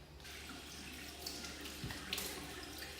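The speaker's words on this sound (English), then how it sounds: "Next, I'm going to splash water on my face" Water splashing and running at a sink as a face is rinsed, a steady faint wash with a few soft splashes and no talking.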